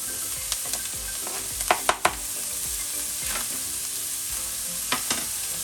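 Onion, green pepper and chopped mushroom frying in a pan, a steady close sizzle with a few sharp clicks and scrapes of stirring scattered through.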